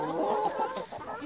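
Free-range chickens cluck in a short burst of close, busy, overlapping hen calls with no talking.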